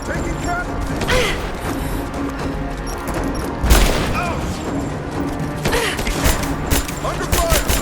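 Gunfire crackles through a combat scene in Rise of the Tomb Raider, scattered shots and booms mixed with mechanical clatter, one heavier blast near the middle, and shouted voices in places.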